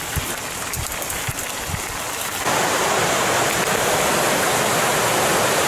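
Rapids of the Rienz river in the Pustertal valley of the Eastern Alps rush as a loud, dense, continuous roar of turbulent water, growing fuller partway through, with no voices.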